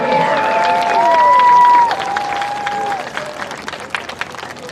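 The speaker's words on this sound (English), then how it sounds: "a big round of applause for the 2025 Bluefield University Homecoming Corps" Crowd at a Bluefield University homecoming football game applauds the 2025 homecoming court, a loud continuous wash of clapping and cheering with a sustained tone over the crowd early on.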